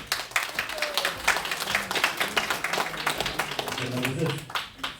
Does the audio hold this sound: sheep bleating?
no